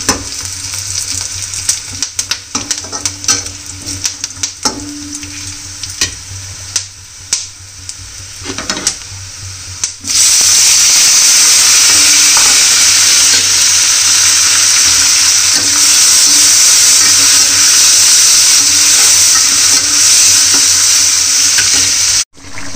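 Maggi noodles with peanuts stirred and fried in a pan, with scattered clinks and scraping from stirring at first, then a loud, steady sizzle that runs unbroken for the remaining seconds.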